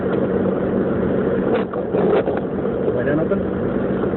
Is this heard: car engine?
yes